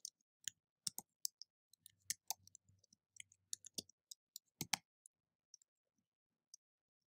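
Keys tapped on a computer keyboard while entering a search query, a quiet run of crisp irregular clicks with short pauses, close up and with no voices.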